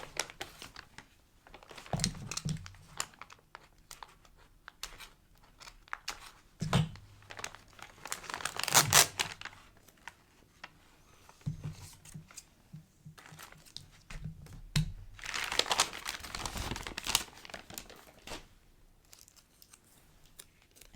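Tape is handled against paper during a journaling craft session, making repeated crinkling and tearing rustles in scattered bursts, close up and fairly soft, with no talk.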